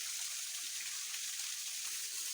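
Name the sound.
small waterfall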